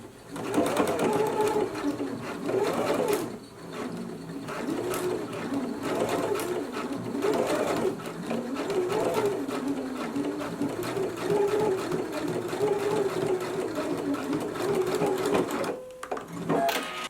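A sewing machine bastes the waist seam of a pair of pants, running in a steady rapid whir with brief pauses and speed changes, close and continuous throughout.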